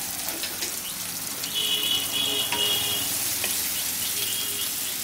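Onions frying with salt in a pan, a steady close sizzle with faint crackles and a few light clinks, moderately loud and without any talking.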